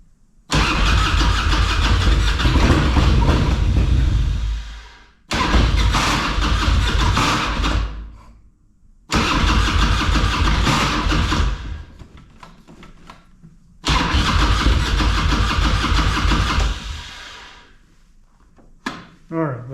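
The engine of the Frankenglide motorcycle runs as its carburetor goes dry, with loud, close revving bursts that cut off, then catch again four times before sputtering out.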